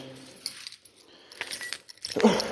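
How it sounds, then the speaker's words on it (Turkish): Keys jingle and rattle close by as a door is unlocked and eased open, a few metallic clinks and a brief scrape of the lock and handle. "Şu kapımızı yavaştan açalım arkadaşlar."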